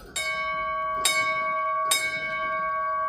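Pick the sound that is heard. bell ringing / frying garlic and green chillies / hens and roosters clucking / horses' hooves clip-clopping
bell ringing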